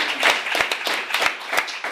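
A handful of sharp hand claps from a podcast co-host, spaced roughly every third of a second in an uneven rhythm, close and fairly loud, with some light chatter mixed in.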